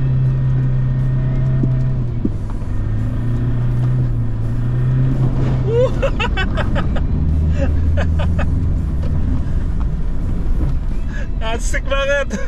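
A red Toyota Hilux is driven flat out on a dirt track, its engine a steady loud rumble that swells and shifts as it accelerates, with voices breaking in over it.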